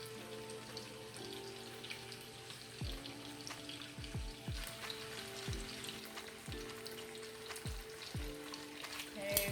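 Ham hocks and onions fry quietly in a pot, a soft steady crackle with scattered pops and a few low spoon or lid knocks, distant and alone without speech.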